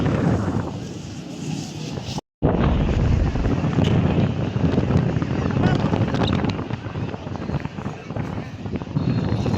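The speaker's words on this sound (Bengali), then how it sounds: "সমুদ্রের ঢেউ অনেক হচ্ছে হঠাৎ করে অনেক বাতাস বেড়ে গেছে" Strong wind buffets the microphone with a steady roar over crashing sea waves on a beach at Cox's Bazar, broken by a brief cut of silence early on.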